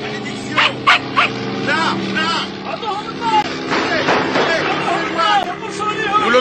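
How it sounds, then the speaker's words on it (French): In an animated Tintin episode, a dog barks a few times at a desert camp as a plane's engine drones overhead, with voices talking over it. "Le chien!"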